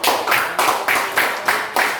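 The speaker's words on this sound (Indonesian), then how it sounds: "kasih tepuk tangan." Rhythmic clapping, about seven quick bursts in a steady beat, close and loud, as a small group claps together in a classroom.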